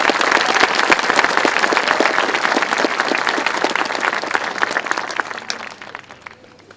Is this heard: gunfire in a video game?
no